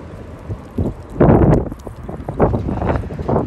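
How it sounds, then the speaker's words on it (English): Strong wind at Sydney Airport buffets the microphone in loud, irregular gusts and rumbling bursts, with no other clear sound over it. "The wind is strong."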